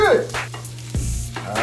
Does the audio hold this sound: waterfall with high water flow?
no